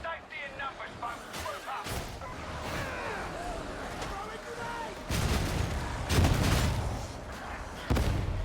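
Heavy thuds and booms of grenade explosions in the video game Warhammer 40k: Darktide, several loud blasts landing in the latter half amid game noise and players talking.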